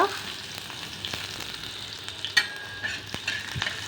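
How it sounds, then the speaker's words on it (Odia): Chopped onions sizzle and crackle steadily in a hot pan as the base for an egg omelette, with occasional stirring clicks and sharp pops over a continuous frying hiss, close and fairly loud. "ପିଆଜ ଟିକେ ଫ୍ରାଏ ହେଇଯାଉ, ନହେଲେ ଫ୍ରାଏ ହେବ ନା।"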